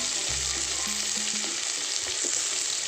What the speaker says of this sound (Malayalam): പച്ചമുളകും എന്നിട്ട് നന്നായിട്ടൊന്ന് വഴറ്റി കൊടുക്കുക